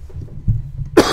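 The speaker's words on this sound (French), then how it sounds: "Pour vous tousser dans la gueule." Quiet low rumble, then one sharp, loud cough close to the microphone near the end.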